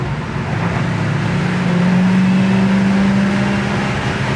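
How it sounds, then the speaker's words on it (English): A 1966 Chevelle's carbureted four-barrel engine drones loudly, its note swelling and climbing as it accelerates over steady road noise. "Favorite thing about driving an old carbureted car is when you hear those 4 barrels open up."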